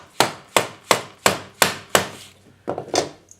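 A hammer taps a spline bushing into a milling machine quill with six evenly spaced sharp metallic strikes, then a quicker cluster of lighter taps, close and loud with no talking.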